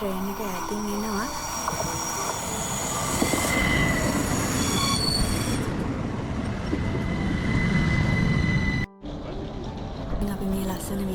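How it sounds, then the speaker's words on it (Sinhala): A train approaches from a distance with a steady rail rumble and squealing wheels that build over about eleven seconds. A voice talks over it, and the sound cuts out briefly near the end. "අන්න අපේ ට්‍රේන් එක ඈතින් එනවා."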